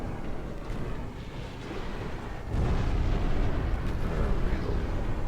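Deep rumbling booms of naval gunfire from veteran-crewed Caledonian battleships in the Ultimate Admiral Dreadnoughts game, a sustained roar that surges louder midway with heavy low thuds over wind-like wash.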